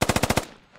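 A rapid burst of about seven machine gun shots in a video game, loud and close, ending in a short fading echo.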